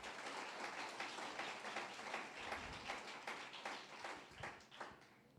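Church congregation clapping together in a dense, steady burst of applause that rises and falls, fairly distant and soft, with no talk over it.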